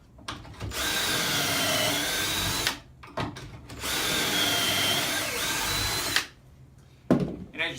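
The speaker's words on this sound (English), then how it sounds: "And drill the next holes." A power drill bores pocket holes through a Kreg jig into wood, giving two long, loud whining runs of about three seconds each, split by brief silence, with a short burst starting a third.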